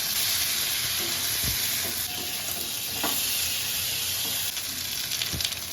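Grated carrot with ginger, cumin and dried red chilli paste sautéing in a pan for khichuri, a steady close sizzle with occasional stirring scrapes and clicks, no talk.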